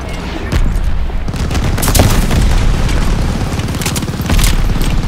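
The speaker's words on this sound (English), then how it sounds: "Enemy glide bomb coming in hot!" Heavy explosion and booming impacts in Call of Duty Vanguard multiplayer as an enemy glide bomb lands, a loud rumbling blast with scattered gunfire crackling around it.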